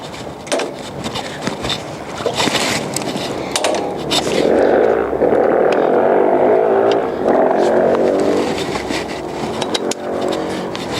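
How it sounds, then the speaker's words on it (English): A hot and cold water sewer jetter trailer with twin engines runs its vacuum system, a loud engine drone with a rough, rising suction roar in the middle and scattered knocks and clatter, no speech. "Now we're going to show you the vacuum system that comes with this."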